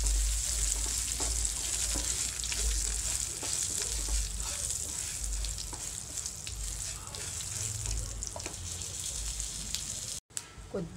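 Chana dal, urad dal and dried red chillies frying in oil with cumin, a soft continuous crackling sizzle with occasional stirring scrapes and low bumps, steady at moderate distance with a brief dropout near the end.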